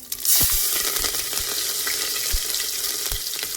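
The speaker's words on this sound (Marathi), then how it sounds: "चला आता गरम झाले मस्त तेल जिरं जिरं टाकले" Cumin seeds crackle and sizzle in hot oil for a tempering, loud and close from the start. Scattered pops and a few stirring knocks sound over the steady frying hiss.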